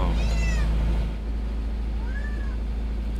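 A cat meows twice aboard a sailboat, a short rising-falling cry near the start and a softer one later, over a steady low engine-like rumble with no talking.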